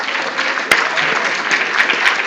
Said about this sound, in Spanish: Este es un aplauso al partido de fútbol.